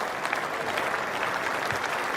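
Steady applause from a cricket crowd as the MCC side leaves the field after an innings in the MCC versus Rest of the World match, a dense even patter of clapping heard at a distance with no voices over it.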